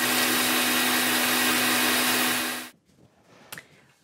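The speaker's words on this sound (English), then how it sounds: "you can't hear me over the mixer anyway" An electric mixer whirs loudly and steadily while beating a 1950s prune whip, with a strong motor hum, then it switches off abruptly and a faint clink follows in the quiet.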